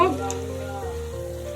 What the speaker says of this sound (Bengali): এবার আমি এর মধ্যে দিয়ে দেবো আদা বাটা আদা বাটাটাকে দিয়ে আবারও কষিয়ে নেব